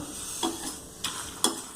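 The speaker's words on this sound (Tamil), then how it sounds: "வதக்கி லேசாக அப்படி வறுத்துட்டு" Soft continuous sizzling of curry leaves frying in a pan, with a few scraping stirs and clinks breaking through the hiss.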